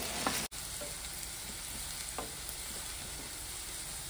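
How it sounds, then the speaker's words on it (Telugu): Okra pieces fry with a steady, close sizzle in a pan, with a few soft stirring scrapes breaking through the continuous crackle. "ఇలా మంచిగా ఈ జిగురు పోయేంత వరకు ఈ బెండకాయ ముక్కలని ఇలా కలుపుతూ ఉండాలి"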